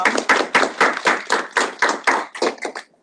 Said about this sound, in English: Yeah, we can clap for both of them.